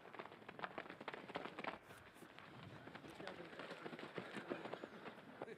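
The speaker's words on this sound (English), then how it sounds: "you hear this sound of feet explosively touching the ground" Many feet pound rapidly on a dirt road in a dense, rustling patter, fairly close, like a group of runners passing.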